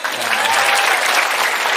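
Loud, dense applause from a crowd welcoming a pastor at an evening gathering in an Islamic boarding school, steady clapping throughout with a brief voice at the start.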